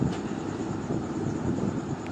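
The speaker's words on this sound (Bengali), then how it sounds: "এই যে ঢুকে গেছে আমাদের ট্রেন" A commuter train pulls into Mankundu station at dawn, a steady broad rumble and rolling clatter held close and loud throughout, with wind buffeting the microphone.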